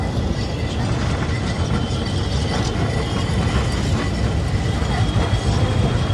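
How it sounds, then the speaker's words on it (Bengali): A Kolkata tram rolls past close by with a steady, loud rumble and a metallic rattle of wheels on rails. No one speaks over the noise. "এই যে আমাদের ট্রাম"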